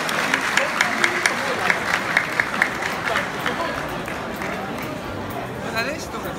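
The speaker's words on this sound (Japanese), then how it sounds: "今一度大きな拍手をお送りください" Audience applause at a school centennial celebration in a hotel banquet hall, a dense wash of clapping with a rhythmic beat running under a person speaking over a microphone.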